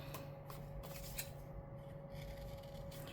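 Scissors fussy cutting around a floral sticker, producing quiet, close snips and papery rustles over a steady low hum, without any voices.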